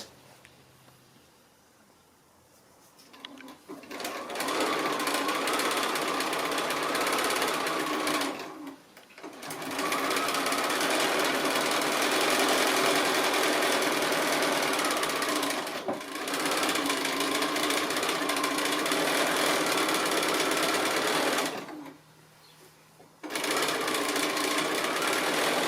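A sewing machine joins quilt blocks in three long runs of fast, even stitching, with short quiet pauses between them, close and clear with no talk.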